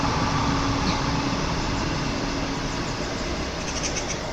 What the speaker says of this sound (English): the train is about the only noise that we're getting around here